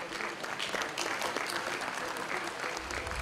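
An audience at a career counselling event claps in a steady, dense round of applause that carries on throughout, loud and close.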